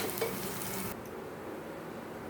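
Sliced onions fry in oil for chicken dum biryani, with a close, crackling sizzle that drops abruptly to a quieter hiss partway through.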